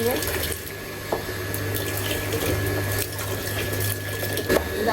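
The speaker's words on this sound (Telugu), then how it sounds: "ఇప్పుడు ఇవన్నీ కడిగేసుకుని దీంట్లో నీళ్ళు నింపేసుకుంటాం" Water runs steadily from a tap into a container outdoors in a vegetable garden, a continuous close rushing and splashing with faint background noise throughout.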